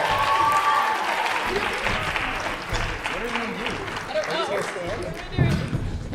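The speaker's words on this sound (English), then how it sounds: "Big round of applause for them, ladies and gentlemen, up on stage here" An audience claps loudly as a high school improv troupe takes the stage, with dense sustained applause throughout and a few thumps near the end.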